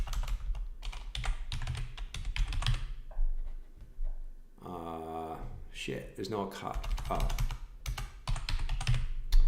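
Rapid clicking of typing on a computer keyboard, steady bursts of keystrokes up close, pausing briefly while someone speaks and then resuming under his talk.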